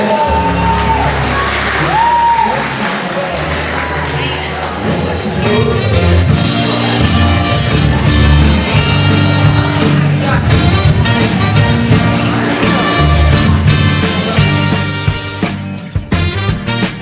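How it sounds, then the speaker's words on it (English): Audience applause and cheering for a performer at a live music show, a dense crowd roar with whoops and shouts over ongoing music, sustained and loud before easing off near the end. "Ladies and gentlemen, round of applause"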